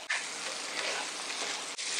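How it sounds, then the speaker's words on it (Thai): Shrimp sizzle and hiss steadily in a hot wok while making Thai stir-fried noodles with water mimosa, a loud continuous frying sound with a brief dip near the end. "ผัดกุ้งให้สุกก่อนค่ะ"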